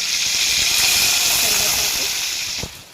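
Four lengthwise-cut green chillies fry in hot oil for a stuffed brinjal curry, giving a loud, steady, close sizzling hiss that eases off just before the end.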